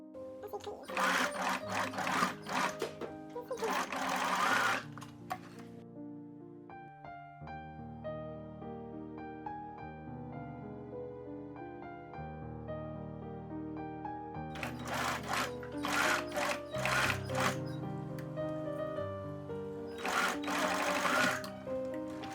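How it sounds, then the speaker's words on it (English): A sewing machine stitches the corners of a tote bag made of striped and orange fabric, running in two close, steady bursts at the start and end, with a soft musical backdrop between them. "I sew the corners of the bag for both the stripes and the orange fabric."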